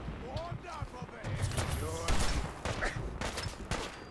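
Gunfire in the video game Fallout 4, repeated sharp shots and bursts spread through the stretch, mixed under excited talking and game noise.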